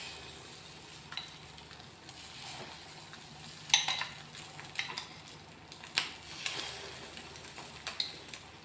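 Egg paniyaram batter is poured into a pan with no oil and starts cooking, a soft steady sizzle broken by a few sharp clinks of utensils against the pan.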